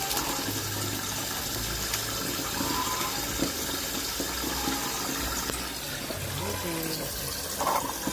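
Water running steadily from a faucet beside a shower, a continuous close rushing wash throughout, with someone talking over it.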